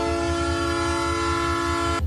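A train sounds a steady, sustained horn at a railway level crossing on Rua do Comércio in Bambuí during an accident drill. The blast holds for about two seconds over a low rumble, then cuts off.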